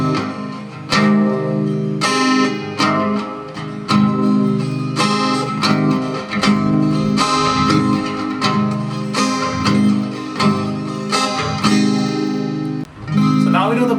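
An acoustic guitar strummed in a steady repeating pattern, some strokes hit harder than others, bright ringing chords played alone with no talking.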